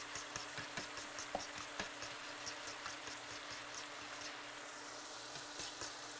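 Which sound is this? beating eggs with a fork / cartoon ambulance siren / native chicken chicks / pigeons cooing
beating eggs with a fork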